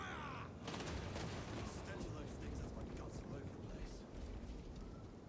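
Firing-squad volley in Warhammer 40k Space Marine 2, a dense rumbling burst of gunfire that rolls on for several seconds, loud and continuous after a brief lead-in.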